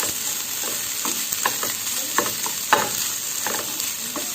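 Grated coconut being stirred into frying fish roe in a pan, steady sizzle broken by repeated scraping strokes of a spoon at an uneven rhythm.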